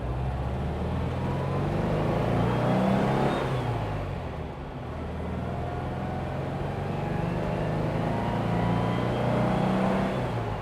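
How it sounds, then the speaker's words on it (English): A Porsche 356 engine drones steadily while driving, a continuous mid-low hum with mild swells in throttle throughout, no voices over it. "I love the sound of that engine, and it's just so fun to drive"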